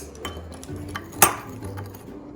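Spices for salmon being mixed in a bowl with a spoon: a few light clinks and scrapes of metal against the dish, with one sharper clink midway, close and fairly loud.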